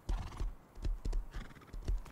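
A horse in Rust trots with repeated close hoof clops in an uneven rhythm, a whinny mixed among the hoofbeats and no talking.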